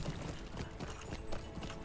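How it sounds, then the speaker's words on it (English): Horse hooves clip-clop at a steady riding pace in the online game The Lord of the Rings Online, a continuous rhythmic patter of close hoofbeats heard alone without speech. "all we should need to do, get on our horse,"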